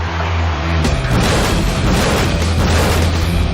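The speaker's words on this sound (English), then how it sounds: "The two cars collide and their tires meet" Two racing cars collide in a crash, one tumbling and launching into the safety fence; a loud, sustained roar of impact and grinding debris fills the whole moment at close range.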